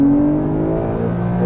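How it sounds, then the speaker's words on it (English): Porsche 992 Carrera 4 engine dropping down through the gears under a light throttle, a steady, loud engine drone with rising and falling harmonic tones, heard continuously from inside the car. "I touch the throttle a little bit and it will shift down so quickly."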